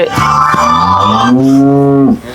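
A cow at a dairy farm holding Holstein Friesian, Sahiwal and Jersey cattle lets out one long, loud, close moo that rises and holds before cutting off, with no voices.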